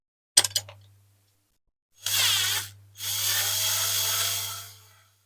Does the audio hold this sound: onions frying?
no